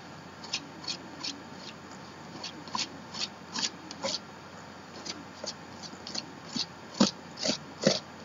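Brusho art pigment is scraped off a surface in a series of short, dry rasping strokes, repeated in an irregular rhythm, close and fairly quiet.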